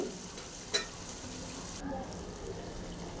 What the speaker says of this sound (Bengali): আলুর সাথে মশলাটা কষিয়ে নিতে হবে, ভালো করে আমি একটু কষিয়ে নেব